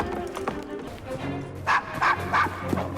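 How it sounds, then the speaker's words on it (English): A dog in the Assassin's Creed Syndicate game gives three or four quick, yappy barks in a row, mixed in with low game sounds and voices. "Shut up, dog!"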